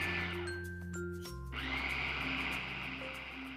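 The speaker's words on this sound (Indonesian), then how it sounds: "kita tuangkan sedikit aja biar kejunya ini bisa di blender gitu, bisa jalan blenderannya" A blender whirs steadily as it purees cheese with full cream milk, its motor pitch shifting partway through, close and continuous.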